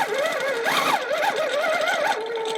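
Janome SD16 sit-down longarm quilting machine with stitch regulator stitching steadily, a close whirring motor whose pitch rises and falls as the speed changes, running continuously without talk.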